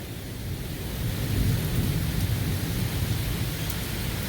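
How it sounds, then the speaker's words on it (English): Deep thunder rumbles and rolls for several seconds over constant falling rain during a severe thunderstorm on Dauphin Island, Alabama, fairly distant and building before easing slightly. "Hear the thunder though."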